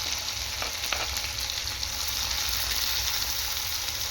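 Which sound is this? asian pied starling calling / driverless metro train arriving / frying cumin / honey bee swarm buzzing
frying cumin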